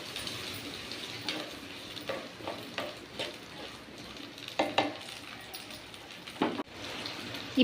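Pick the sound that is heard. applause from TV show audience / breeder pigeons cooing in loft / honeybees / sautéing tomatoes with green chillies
sautéing tomatoes with green chillies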